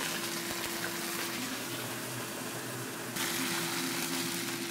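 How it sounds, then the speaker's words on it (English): Water pours steadily into a pan of chili and ketchup sauce, a continuous broadband gush that holds at an even level, growing a little brighter near the end. "Water."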